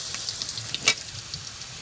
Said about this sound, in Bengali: গরম তেলে আমি এখন আলু দিয়ে দিচ্ছি আলুটাকে ভালো করে ভেজে নেব